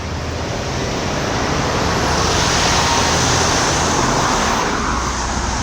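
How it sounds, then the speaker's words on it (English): A continuous broadband roar of road traffic, like heavy trucks passing nearby, holds steady and loud throughout with no pauses. "trucks making noise in the back"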